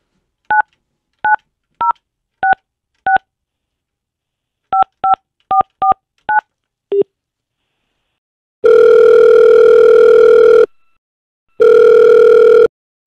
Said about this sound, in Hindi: let's dial the number